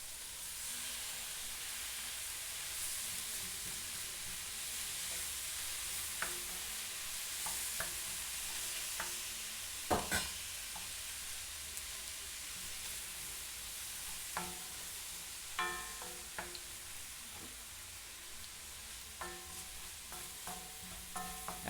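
Tomatoes are stirred into smoked eggplant bharta in a hot pan: a steady, faint sizzle and hiss with occasional scrapes and clinks of the spoon, no talking.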